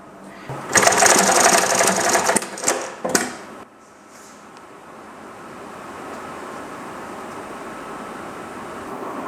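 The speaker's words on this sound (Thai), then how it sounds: "ส่วนการเย็บก็จะเป็นการย้ำอยู่กับที่นะครับ" A Highlead GC20618-2DZA Durkopp-style double-needle industrial sewing machine stitches a bartack in place. It makes a loud, rapid mechanical clatter for about three seconds, then stops, leaving a low motor hum.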